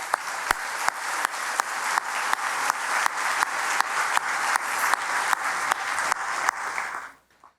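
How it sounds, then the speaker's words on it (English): A luncheon audience gives a sustained round of applause, dense, even clapping with regular periodic accents that carries on for several seconds, then fades out abruptly at the end, with no talk over it. "Please give them a round of applause."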